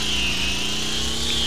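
Mini helicopter engine in the Wii game Mini Copter Adventure Flight whirs steadily with a buzzing, saw-like drone, loud and constant throughout.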